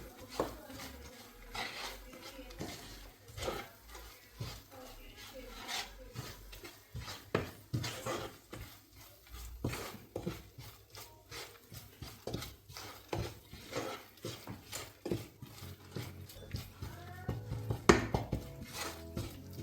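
Curry leaves and masala stirred in a pan while making spicy prawn pickle, a steady run of metal spoon scrapes and clinks against the pan with faint sizzling throughout.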